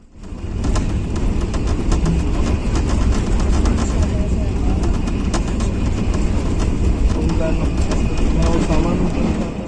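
A Pakistan Railways train rolls through Haripur railway station, its loud steady rumble punctuated by a rapid, regular clickety-clack of wheels over rail joints throughout.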